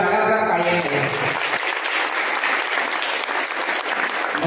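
Men in a large gathering break into vigorous applause, a dense, loud wash of clapping that follows a few spoken words and continues steadily to the end.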